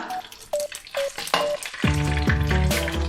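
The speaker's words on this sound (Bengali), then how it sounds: "এবার ওই তেলের মধ্যে আমি দিয়ে দিলাম তেজপাতা, শুকনো লঙ্কা," Bay leaves, dried chillies and whole spices hit hot oil for a Bengali fish curry, sputtering with crisp pops at first, then breaking into a loud, dense sizzle as more goes in, with no talk.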